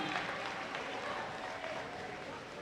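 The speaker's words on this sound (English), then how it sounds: "Give her a round of applause" A basketball crowd in a high school gym applauds a newly elected councilwoman, giving a steady, diffuse wash of clapping and crowd noise with faint voices underneath.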